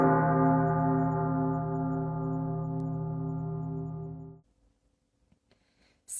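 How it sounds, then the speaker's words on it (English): A clock tower bell rings out at midnight, one loud, rich stroke with a long humming decay that fades and cuts off after about four seconds, leaving near silence. "Stave 2 begins with the bell on the clock tower ringing"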